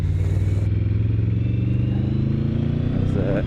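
A big motorcycle engine drones steadily at low revs while filtering through slow traffic, close and loud with a constant rumble, wind noise and a brief rattle near the end.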